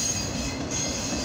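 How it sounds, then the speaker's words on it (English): A northbound CSX auto rack freight train passes the Flanders Avenue railroad crossing in Lima, Ohio, a loud, steady close rumble of rolling cars and wheels with no talking. "This is a northbound CSX auto rack train."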